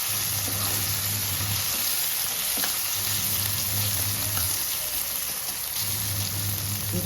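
Onions and tomatoes fry in a pan with a steady, loud, close sizzle and crackle, along with occasional stirring clatter and no talking.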